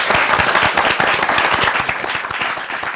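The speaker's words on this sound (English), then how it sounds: "So awesome to have an in-studio audience with the clapping" A studio audience claps steadily at a crypto startup pitch event, dense and close with fast overlapping hand claps throughout, no talk over it.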